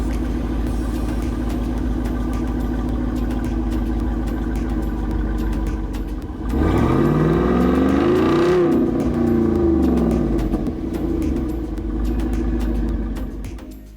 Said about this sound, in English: Nothing really sounds like a V8.